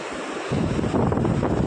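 Wind and surf at the seashore: a steady broadband rush of wind buffeting the microphone, swelling louder about halfway through as a wave surges in, with no voices.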